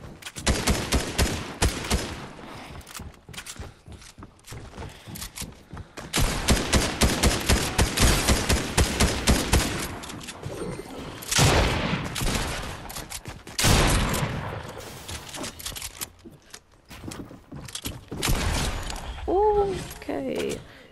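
Repeated shotgun blasts and rapid gunfire from a Fortnite firefight in Zone Wars mode, loud and dense in bursts across the scene, with speech and game sounds mixed in.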